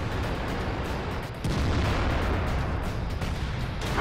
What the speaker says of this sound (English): And there's a KV-4 over there shooting at me.